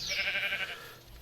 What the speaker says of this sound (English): the other thing we need is sheep. I can hear them.